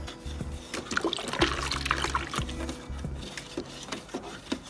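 Water runs and splashes steadily from a faucet while a Bluestar appliance is rinsed during cleaning, with a low hum underneath and occasional clinks nearby.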